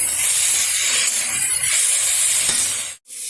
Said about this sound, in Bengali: লাল শাকটা খুব ভালোভাবে ভাজা হয়ে গেছে